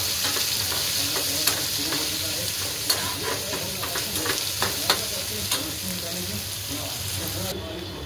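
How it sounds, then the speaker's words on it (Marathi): Onion fries with garlic and chilli in a pan, giving a constant loud sizzle broken by scraping stirs and a few light clinks of the spoon. "आता आपला कांदा भाजतोय छानपैकी।"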